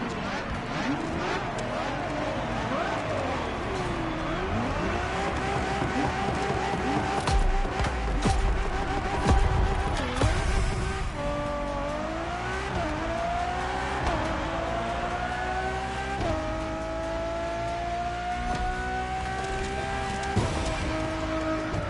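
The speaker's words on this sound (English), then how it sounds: "Ferrari Enzo, fourth in the supercar bloodline" Ferrari Enzo racing in the video game The Crew Motorfest, a continuous loud high-revving engine whine climbing through gears with brief dips and tire noise, no talking.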